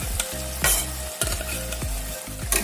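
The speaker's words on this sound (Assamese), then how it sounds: "ভালদৰে লৰাই দিম" Food fries in a pan with a constant sizzle while a utensil stirs it in repeated scraping strokes, close and clear, with no talking.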